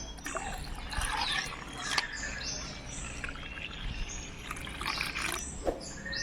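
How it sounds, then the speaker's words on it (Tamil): Water is poured into buttermilk in a clay pot, a soft trickling pour in several short bursts, faint and close, with light bird calls in the background. "இப்போ இதில் தண்ணி ஆட் பண்ணிக்கலாம்"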